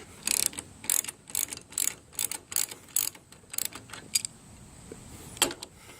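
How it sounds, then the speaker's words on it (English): A bolt on a van roof rack is unscrewed with a ratcheting tool, giving a series of quick clicking bursts in an uneven rhythm, close and fairly quiet, with no talk. "I'm going to unscrew this bolt and then disconnect this"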